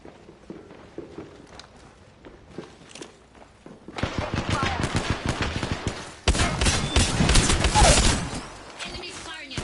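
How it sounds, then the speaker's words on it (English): Apex Legends gunfire: after a quiet stretch of footsteps, loud rapid bursts of automatic shots start and grow heavier, with in-game voice lines over the shooting. "Enemy firing at me."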